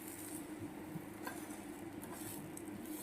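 Bread omelette frying in a small amount of oil, a soft steady sizzle with faint crackling and an occasional light scrape of a utensil, close and continuous with no talk.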